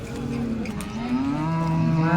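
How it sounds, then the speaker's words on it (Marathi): A cow moos once at the Modnimb cattle market in a long, low, rising call, close by and loud, with no one talking. "तर पाहू शकता वेळेला झालेली गाय"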